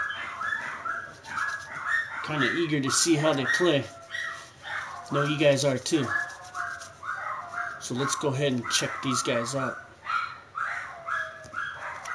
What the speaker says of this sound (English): I have a couple dogs that are, for some odd reason, going little nuts downstairs